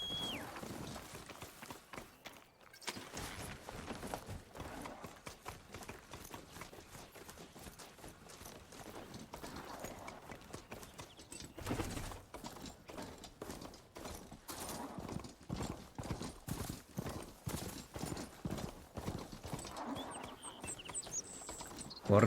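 Rapid, rhythmic hoofbeat-like thuds of a robotic goat-like mount galloping in Horizon Forbidden West, running steadily and fairly faint for over twenty seconds with scattered game effects and no voices.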